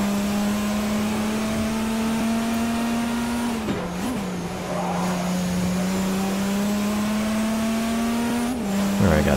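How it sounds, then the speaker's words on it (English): A loud, steady LMP1 race car engine in Forza Motorsport 4 drones at high pitch with a whining turbo, dipping briefly twice as it shifts, then holding a constant roar. "This freaking car sounds like a goddamn jet."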